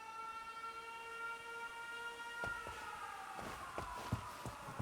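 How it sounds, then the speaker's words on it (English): Air raid siren in the video game 13 Sentinels: Aegis Rim, near a Sentinel factory under bombing: steady, wavering tones that sustain throughout, with sharp impacts and crashes breaking in over the second half. "That is an air raid siren."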